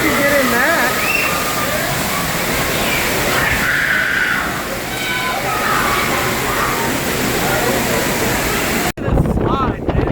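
Wind roars against the microphone in steady buffeting gusts on the deck of the cruise ship MSC Seaside, with people talking through it and rushing water faintly beneath.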